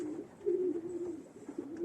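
Racing pigeons, fast birds bred for long-distance contests, coo in a steady low murmur, with soft repeated calls overlapping at close range and no talk.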